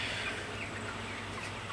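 A flock of month-old broiler chickens on a farm gives a steady, dense wash of soft clucking and murmuring at night. The sound is moderately faint and continuous, with no single bird standing out and no talk.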